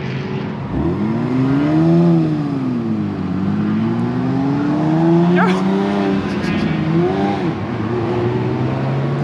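A car spinning out on a race track during a track day, with engine revving that rises and falls and brief tire squeal, loud and close, and voices talking over it.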